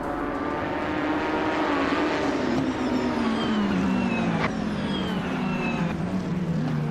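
Race cars including a 2015 Ferrari 488 GT at Laguna Seca in a racing video game, a loud continuous engine drone rising and falling in pitch as the pack accelerates, with no talk.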